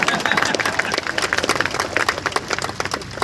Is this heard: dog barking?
no